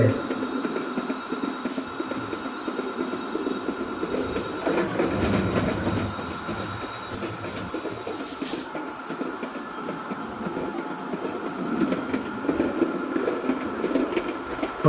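A Bangladeshi train, number 330 MEI-20, runs in a train simulator game, giving a continuous rumbling rail noise with faint rhythmic clatter that holds steady throughout.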